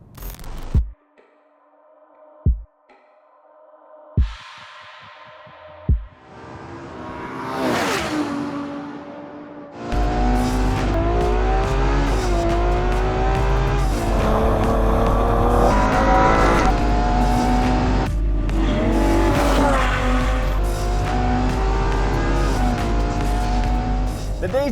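A Ferrari 812 Superfast V12 on the Fiorano circuit starts with a few sharp clicks and thumps, then a rising whoosh, before the engine bursts into a loud, sustained high-revving howl that climbs and shifts repeatedly as the car drives fast.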